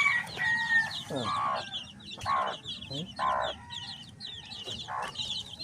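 Chickens cluck and chatter repeatedly at close range, with short bursts of squawks and calls overlapping against a busy farmyard background.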